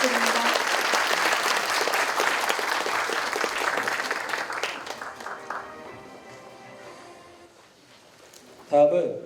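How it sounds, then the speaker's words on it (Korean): Audience applause at a university's 107th anniversary ceremony, a dense sustained clapping that gradually thins out, followed by a brief louder sound near the end. "직원공로상을 수상하신 분들께 다시 한번 박수를 부탁드립니다."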